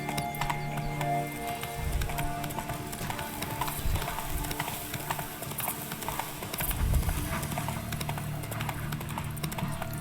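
Horse hooves clip-clopping in a steady galloping rhythm in The Witcher 3, with continuous game ambience and music layered underneath throughout.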